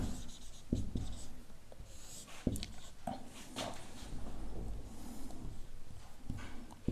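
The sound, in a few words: writing by hand on paper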